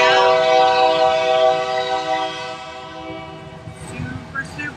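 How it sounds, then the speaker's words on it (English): A train rolls past near a waterway marina, its horn blaring loud and sustained for several seconds, then fading under rumbling wheels and faint engine noise. "it looks like there's a train going by"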